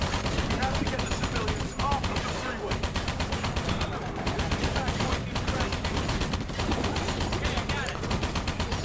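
Continuous rapid gunfire in the video game Battle: Los Angeles, dense machine-gun bursts and shots layered over one another, loud and sustained across the whole stretch with someone talking over it.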